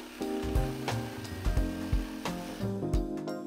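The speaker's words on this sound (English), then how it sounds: "Reciprocating Saw." A reciprocating saw cutting through wood while building an upcycled console table: loud buzzing strokes with a droning tone, stopping and restarting in several short bursts, close by with no talking.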